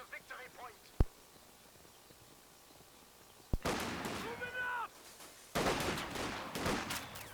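Rifle gunfire exchange in the WWII strategy game Company of Heroes 2, riflemen and Grenadiers trading shots around a building: an isolated sharp crack, then two loud sustained bursts of overlapping shots and battle noise.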